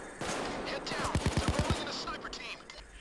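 A quick burst of about six rapid sniper gunshots rings out in the video game Payday 2, moderately loud over a low background hum, with faint talk around it.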